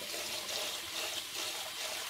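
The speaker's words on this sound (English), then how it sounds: "drain it off. And I'm gonna go again." Milky rinse water drains off washed rice in a steady, close trickle and splash, continuous for about two seconds with no voices.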